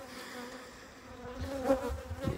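Honey bees buzz inside a beehive, a faint, close, continuous hum that swells slightly toward the end.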